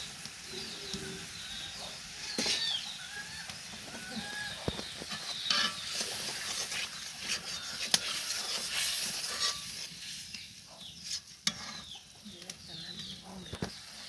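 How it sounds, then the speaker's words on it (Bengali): Spices and turmeric are stirred in a pan for a fish curry, producing soft scraping and faint sizzling, with occasional sharp knocks and birds or chickens calling in the background. "এখন মশলাগুলো ভালোভাবে নেড়ে চেড়ে মিশিয়ে নেবে।"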